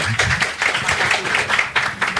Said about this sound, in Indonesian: Sekali lagi tepuk tangan biar tambah semangat